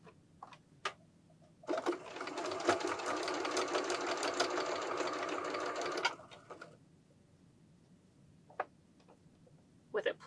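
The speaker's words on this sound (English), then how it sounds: "we are going to continue stitching along this edge here to make sure that the piping is closed" Sewing machine running one steady four-second burst as it stitches along a pillow edge to close the piping, with quiet ticks and handling before and after.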